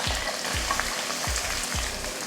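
Onions and curry leaves crackle and sizzle in hot oil in a kadai, a dense, close frying hiss with four soft, regular stirring knocks underneath.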